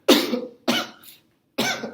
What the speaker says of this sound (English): If they're coughing, have them cough forcefully